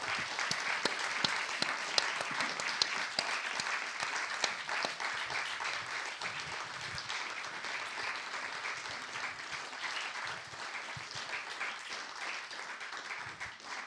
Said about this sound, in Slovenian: po moje en aplavz za tele naše današnje goste